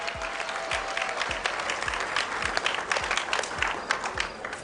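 Warm, sustained applause from an audience at a Rotary district conference in Naivasha, a busy crowd of clapping hands with a few louder nearby claps punctuating the steady roar.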